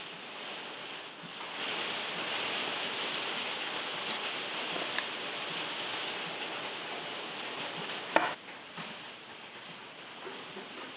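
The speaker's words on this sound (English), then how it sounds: "sorry for the loud hammering of the rain, there was an absolute downpour" Heavy rain pours down in a steady, dense hiss, drumming continuously on a surface with an occasional sharper knock.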